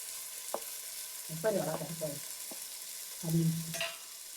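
Green turkey berries (sundakkai) dropped into a hot frying pan, giving short bursts of sizzling and frying with stirring clatter, fairly quiet and close, with brief pauses between bursts.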